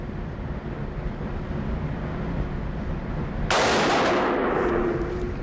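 A Tommy Built TG36K rifle, an HK G36 clone, fires a single 5.56 round of PMC X-Tac outdoors at a range, one sharp loud crack cutting through a steady low wind rumble and followed by a brief echoing decay.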